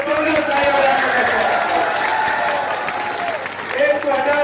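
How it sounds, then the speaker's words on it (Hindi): Crowd applause at an outdoor political rally, a steady wash of clapping with shouts and voices mixed in, rising again briefly near the end. "कई तालियां की गड़गड़ कमी नहीं होनी चाहिए"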